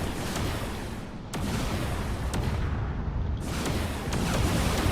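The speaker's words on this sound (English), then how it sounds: "the carrier is using its main weapon" A carrier's main weapon fires in a space combat video game, a series of sharp, booming discharges with rumbling tails, spaced a second or so apart over a constant low roar.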